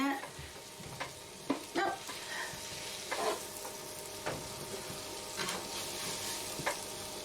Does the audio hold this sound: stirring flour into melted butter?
yes